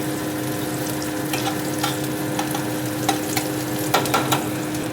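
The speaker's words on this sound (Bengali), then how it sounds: "এটাকে একটু ভালো করে ভেজে নেব" Steady sizzling of ginger, garlic and chili frying in hot oil, with occasional soft clicks of a utensil stirring the pan.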